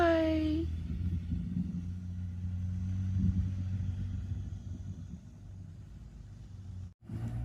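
A teenage son's first car, which he repaired himself, pulls away from the house on a trip for gas: a steady low engine rumble that holds at moderate distance, with a brief higher tone at the very start.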